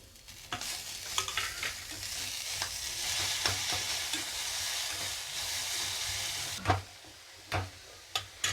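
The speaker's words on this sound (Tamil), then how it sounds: "பீர்க்கங்காய் தோலை சேர்த்துக்கலாம்" Ridge gourd peel sautéing in a pan with garlic and dried red chillies, a steady sizzle under repeated spatula stirs and clacks, a few louder knocks near the end, close and without talk.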